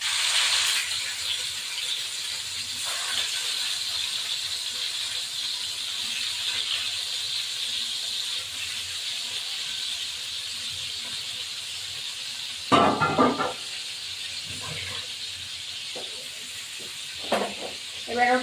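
Chital fish fry in hot oil, a constant loud hissing sizzle that fills the whole stretch, with a burst of spattering and brief clatter near the end.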